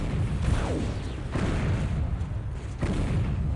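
Cannon fire in the Dawn of War strategy game: heavy booms land about once a second amid a dense, continuous roar of battle noise, loud and close throughout.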